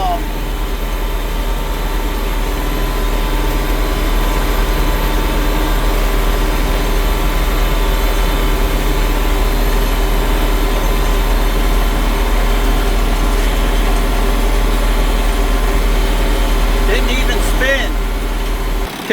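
A tractor pulling a disc chisel through a field of high weeds in stormy weather, heard as a steady, loud low engine drone with constant rumble throughout, with a brief faint voice near the end.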